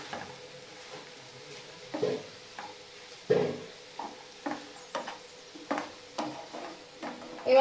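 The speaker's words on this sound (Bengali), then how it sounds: "নুনটা দিয়ে আমি নেড়ে দিচ্ছি" Chopped vegetables for a home-style Maggi dish stirred in a pot after a spoonful of salt: a series of distinct scraping, clattering spoon strokes roughly every half second, fairly close, over a faint background sizzle, with no talking.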